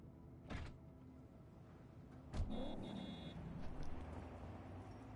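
Exiting a car in Cyberpunk 2077: a soft thump early on, then a sharper door clunk followed by a brief mechanical whir over a steady low engine idle, close and moderately quiet.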